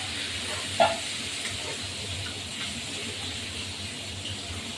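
Pona fish frying in hot oil in a pan for a spicy Bengali fish curry, a steady soft sizzle and hiss running throughout, with one brief sharper clatter near the start.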